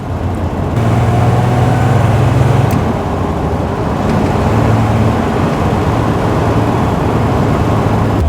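Steady cabin drone of a Triumph GT6 cruising in third gear overdrive on an open road, a constant low engine hum and road rumble with wind noise, even and unbroken.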